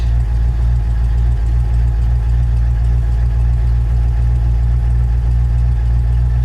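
A 1984 Ford Ranger with a 302 V8 idles after a cold start in Canadian winter weather, giving a steady, deep, loud rumble with an even low pulse and no voices.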